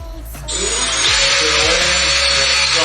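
A power drill whirs up and runs steadily at high speed while installing a wall hook, a short, loud, close burst after a brief start.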